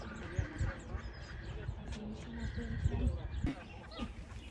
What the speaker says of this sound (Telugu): వాటి సౌండ్స్ కూడా ఎట్లా వస్తుందో బర్డ్స్.